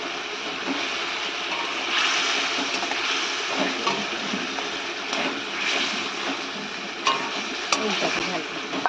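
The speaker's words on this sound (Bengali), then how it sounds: "একটু টমেটো আদা রসুন দিয়ে ভাজছি।" Tomato, ginger and garlic frying in a pan for a Bengali fish and pointed gourd curry: a steady, close, crackling sizzle throughout, with a few sharper pops and stirring scrapes.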